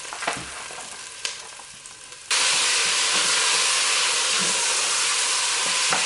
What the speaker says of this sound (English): we're going to put this into the big pot on the stove and get it to browning